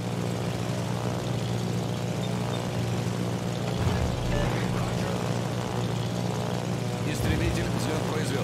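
A carrier-launched fighter plane lifts off in World of Warships, a steady propeller drone over the hum of a Soviet Tier 8 carrier's engines, with game voice callouts heard over it.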